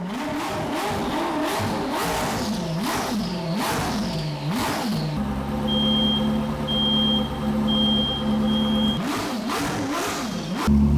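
A Koenigsegg CC850 hypercar engine starts indoors and revs repeatedly in sharp bursts, then settles into a loud idle while a high smoke alarm beeps intermittently.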